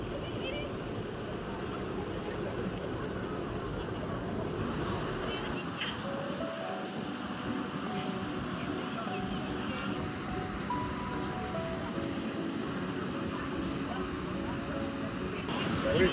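The Maid of the Mist boat at Niagara Falls rumbles steadily as it gets under way, set against wind and the broad wash of water, with voices talking at times.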